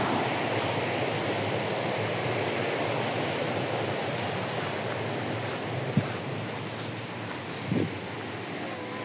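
A large mountain river in Sirijung, Terhathum, rushes in a broad, steady roar of flowing water, continuous and fairly close, with a few faint clicks near the end.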